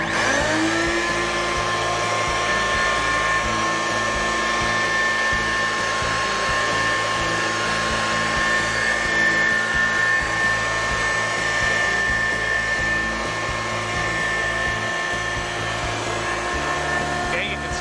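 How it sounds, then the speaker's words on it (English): The vacuum motor on a pelletized seed sowing machine gives a loud, steady whine with a constant hum throughout, close by and unbroken. "The motor from the vacuum is kind of loud"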